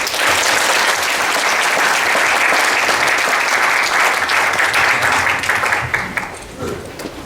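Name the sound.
audience applause of encouragement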